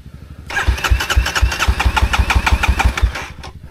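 Motorcycle engine cranking repeatedly on the starter, a fast rhythmic chugging that fails to catch, loud and close, then stops.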